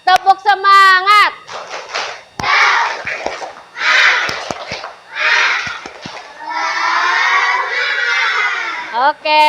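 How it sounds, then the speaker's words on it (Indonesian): A classroom of schoolchildren performs the tepuk semangat chant, loud close voices shouting in unison with rhythmic bursts of group clapping between chanted phrases, then cheering at the end. "coba tepuk semangat"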